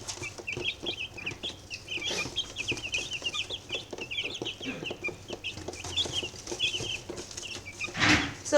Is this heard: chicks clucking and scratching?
yes